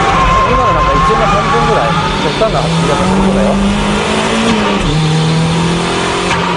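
A drift car brakes hard into a corner, its engine note falling and rising under throttle while tires hiss and squeal, loud and close throughout the run.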